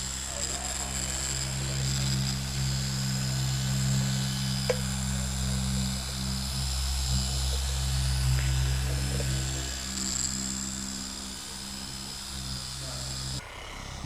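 A car detailing polisher with a 5-inch backing plate and a rotary attachment drones steadily and close throughout, a continuous motor hum with brief clicks and a short break near the end.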